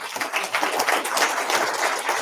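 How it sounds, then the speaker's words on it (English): An audience at a D programming language conference in London claps for a speaker being introduced, a dense, fairly loud wash of many hands that continues steadily without voices. "So give him a round of applause."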